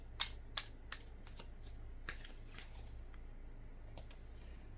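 Tarot cards are shuffled and drawn in a quiet room, with crisp close-up flicks and snaps of card stock coming in a sparse irregular series over a low steady hum.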